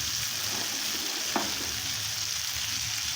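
A pan of Bengali parshe fish curry sizzles steadily as hot water is poured in, giving a brief splash partway through over the continuous frying hiss.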